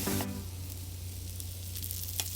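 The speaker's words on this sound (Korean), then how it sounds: "프라이팬에 이미 예열이 남아있는 예열로 볶는 것입니다" Anchovies being stir-fried with seasoning in a frying pan left on residual heat after the burner is off, a soft steady sizzle with a brief louder crackle at the start and faint clicks of stirring.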